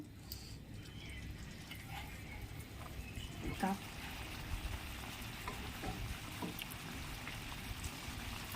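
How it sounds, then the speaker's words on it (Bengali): Spiced chicken masala fries and is cooked down in a pan, producing a continuous soft sizzle with occasional stirring scrapes while a person talks over it. "এবার এটাকে ভালোভাবে কষিয়ে নেব, মশলাটাকে।"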